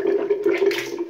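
Mouth rinsing with water during a fresh-breath routine: a short, continuous gurgling swish close up, alone and steady for about a second.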